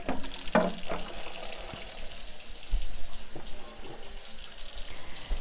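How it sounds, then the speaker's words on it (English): Cold water runs from a kitchen tap while rice waits to be rinsed in a colander, a steady, fairly quiet splashing wash with a few sharper clinks and drips along the way. "I'm actually going to run cold water"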